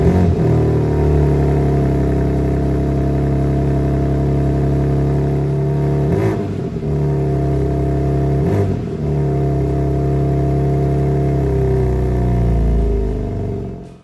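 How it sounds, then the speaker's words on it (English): A BMW M2 G87 fires up and revs, its engine note loud and close, with two sharp throttle blips around the middle before it settles back to a steady idle. "let's start her up and go for a drive"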